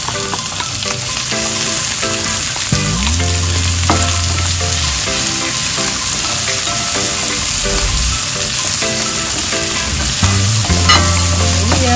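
Onion sizzles in a hot pan while a spoon stirs it, for a Filipino provincial dish. The frying hiss is loud and steady throughout, and close clinks and scrapes of the stirring break through it now and then.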